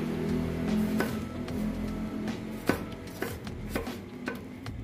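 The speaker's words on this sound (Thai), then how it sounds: "หั่นลงไปที่ครกเลยครับ" A knife slices tomato, long beans and other vegetables over a mortar for a spicy Thai chicken-feet salad, giving soft irregular cutting taps against a low background hum.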